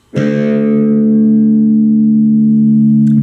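Guitar sixth string tuned down to drop D, a single low note struck once and ringing steadily for about three seconds, loud and close with no talking.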